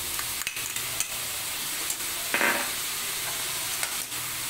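Carrot, cabbage and onion sautéing in hot oil in a pan, a soft continuous sizzle with occasional stirring scrapes and clatters, fairly quiet and close with no talking.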